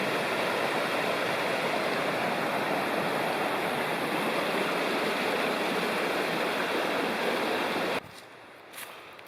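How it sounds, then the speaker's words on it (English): Jakes Creek in the Great Smoky Mountains, a large mountain stream seen from a trail bridge on a sunny late-November day, rushes in a steady, loud, close roar that fills the clip before cutting out near the end. "And this is the really beautiful, bigger than I thought,"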